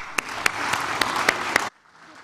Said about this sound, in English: give a round of applause to everyone,